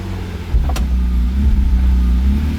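A manual-swapped JDM BMW E36 accelerating in second gear, a deep, steady engine rumble that builds slightly after a brief sharp click near the start, loud and close with no talk.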